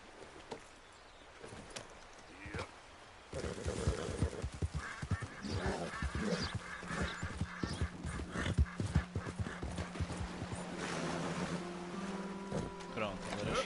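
Horse hooves clip-clop in the video game Red Dead Redemption 2 on PS4, a steady rhythmic run of hoofbeats that starts after a few quiet seconds, with ambient game sound and some talk.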